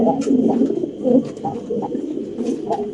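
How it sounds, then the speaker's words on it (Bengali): A pigeon at a pigeon farm coos close by, a series of soft, low, rolling coos repeating in a loose rhythm over a faint background hum. "এই দেখেন কবুতর ডাকটো দেখাই দেই"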